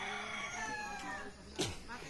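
A rooster crows nearby in Marinduque, Philippines, a drawn-out call under a person talking, ending with a brief sharp noise.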